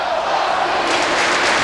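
A hockey arena crowd at the National Hockey Center cheers and roars steadily in a seniors-honoring reception before the puck drop, a broad sustained wash of noise that swells slightly midway.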